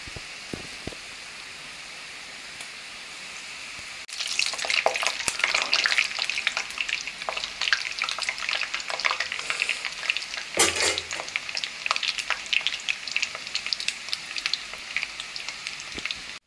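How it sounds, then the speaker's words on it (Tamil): Peanut pakora batter drops into hot oil; after a few quiet seconds a loud, close, crackling sizzle begins and continues steadily, with sharper pops near the end. "எண்ணெயில போட்டு பொரிக்க ஆரம்பிச்சிடலாம்."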